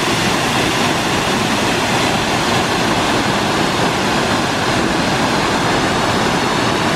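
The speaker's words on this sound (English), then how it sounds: "this is why we stopped over here to check out this waterfall." A steady, full roar of a waterfall in Alaska, loud and continuous throughout with no pauses or voices.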